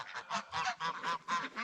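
A flock of geese with some ducks honks loudly and repeatedly at the door near bedtime, wanting their dinner, in a rapid run of close, overlapping calls.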